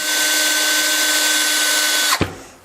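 A power drill spins a polishing rag at steady high speed with a constant loud whine, close by, then winds down abruptly near the end with a brief clunk as it stops.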